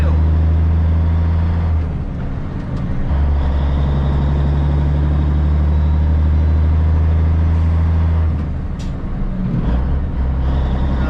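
Kenworth K100E Aerodyne cabover truck idling loudly with a steady low diesel drone, throttle blips briefly raising the engine note before it settles back, with a short air hiss near the end.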